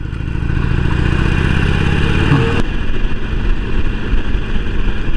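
A Harley-Davidson Iron Sportster 883 engine drones steadily and loud while riding, its low rumble holding even before a sudden shift in tone midway, with wind rush continuing alone to the end.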